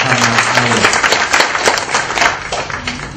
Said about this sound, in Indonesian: Tepuk tangan untuk Pak Muhammad Ali